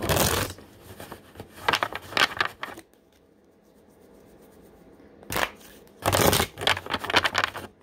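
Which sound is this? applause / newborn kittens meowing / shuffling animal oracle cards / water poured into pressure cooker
shuffling animal oracle cards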